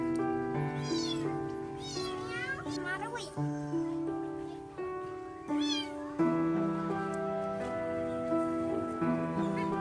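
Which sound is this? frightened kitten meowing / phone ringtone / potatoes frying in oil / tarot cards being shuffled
frightened kitten meowing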